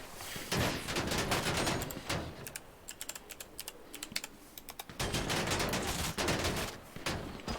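Rapid gunfire bursts from a GTA-style roleplay video game, dense clusters of sharp shots in two loud spells with a sparser stretch of scattered pops between them.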